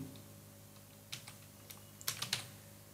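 Keys on a computer keyboard are tapped to type a name: a few quiet, crisp clicks around the middle, then a quicker cluster of keystrokes, all over a faint steady hum.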